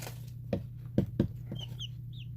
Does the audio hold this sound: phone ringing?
no